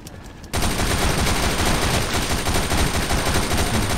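Rapid automatic gunfire in the zombie shooter video game Unkilled bursts in after a brief quiet moment and continues as a dense, loud, continuous rattle to the end.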